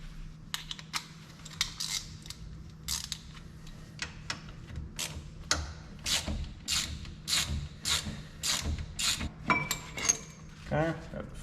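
Wrench work on a brake caliper bolt during a rotor change: a run of sharp metallic clicks and clinks, irregular and close, with light handling noise and a steady low hum underneath.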